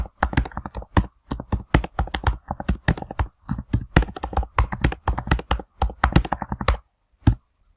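Rapid typing on a computer keyboard, close and crisp, with bursts of fast irregular key clicks running for several seconds before slowing to a final isolated tap.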